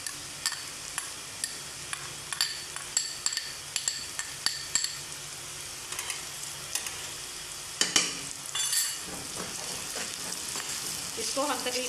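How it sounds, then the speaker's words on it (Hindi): Ginger garlic paste frying with golden-edged onions in a pan for aloo gosht, a close, steady sizzle broken by frequent clinks and scrapes of a spoon stirring against the metal pan. "अब हम इसके अंदर लहसुन अदरक का पेस्ट ऐड करेंगे।"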